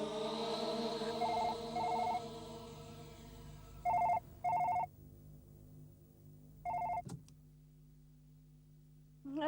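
A telephone rings in short electronic bursts, three or four separate rings separated by pauses, faint and alone over a low hum, ending with a click.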